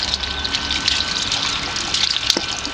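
Liquid poured onto a compost pile of tomatoes and paper towels, a steady close splashing gush lasting throughout.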